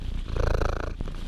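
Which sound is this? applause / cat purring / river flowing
cat purring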